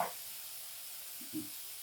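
Onions and vegetables sizzle and steam in a pan after water is added, giving a steady, faint broadband hiss with a soft knock partway through.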